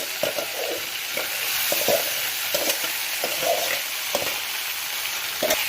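Steamed flat beans and potatoes fry in hot oil with tempering spices, a steady bright sizzle punctuated by repeated spatula taps and stirring scrapes against the pan.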